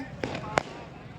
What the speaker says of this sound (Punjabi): ਦੇਖੋ ਪਟਾਕੇ ਪੈਂਦੇ